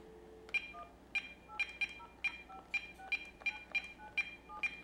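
A phone number is keyed in on a telephone with a calling card, about a dozen crisp touch-tone beeps in a quick uneven rhythm, close and clear with no talk.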